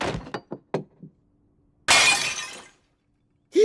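A cartoon fight scene brings a few dull knocks and thumps, then a Tiffany lamp smashes in one loud crash of shattering glass with scattering debris that fades quickly.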